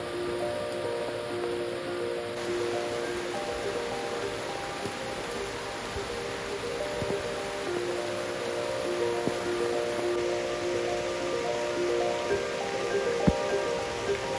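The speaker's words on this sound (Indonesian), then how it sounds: "ketika memasak makanan, hujan pun turun." Steady rain falls outdoors in the Papua jungle, a dense, even patter on leaves and surfaces that holds constant throughout, with a few sharper drip ticks and no voices.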